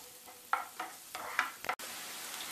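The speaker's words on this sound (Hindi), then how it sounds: "अब हम इसको एक मिनट तक भूनेंगे" Garlic and onion sauté in butter in a pan for spinach soup, giving a soft crackling sizzle with a few louder stirring scrapes in the first half, then a steady low hiss with no talk.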